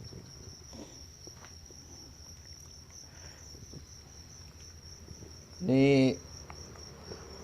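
Crickets chirp steadily in a small breeding box lined with dried banana leaves, a thin continuous high trill running throughout, while a brief low voice speaks near the end.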